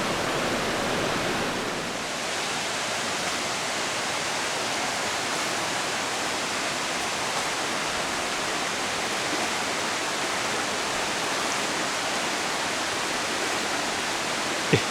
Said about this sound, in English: The river's almost about to get up in the road here.